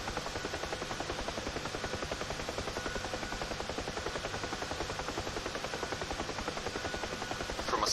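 A UH-1H Huey helicopter flies in the DCS World flight simulator, its rotor chopping in a fast, steady, even rhythm over broadband turbine roar, heard alone without talk.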